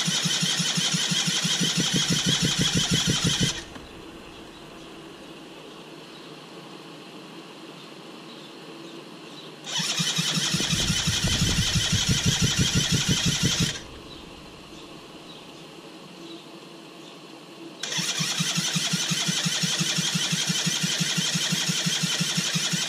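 Yamaha BWS Zuma 70cc scooter with an upgraded cylinder being cranked three times by its starter, each loud whirring burst lasting a few seconds and separated by quieter idle-like pauses, close and alone.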